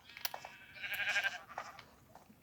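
A sheep from the Minecraft video game bleats once, a wavering mid-pitched cry with a few scattered clicks around it, fairly close and clear.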